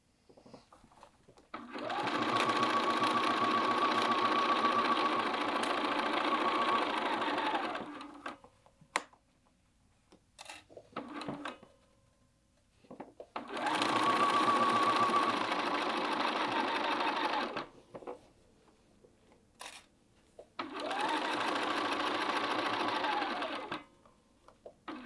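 A sewing machine stitches binding down on a quilted jacket in three long runs with short pauses between them. It gives a steady mechanical whirr at close range, and soft handling noises fill the gaps.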